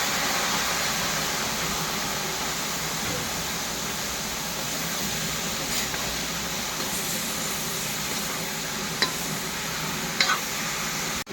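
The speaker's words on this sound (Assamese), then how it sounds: "একেলগে ভাজি লওঁ চব্জিটো।" Vegetables stir-fry together in a pan, a steady sizzle broken by scraping stirs and a few sharp utensil knocks near the end, heard close with no speech.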